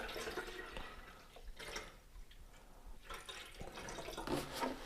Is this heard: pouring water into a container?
yes